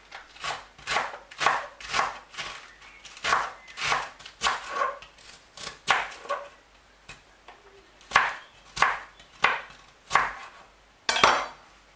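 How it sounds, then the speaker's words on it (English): Steady, rhythmic knife chops on a cutting board as vegetables for a salad are cut, close up and evenly paced, with no talking. "Continue to chop."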